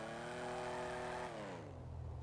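A car in GTA 5 FiveM revving hard, its engine note climbing to a sustained whine, then falling away as it shifts down within about two seconds, loud and close with no talk.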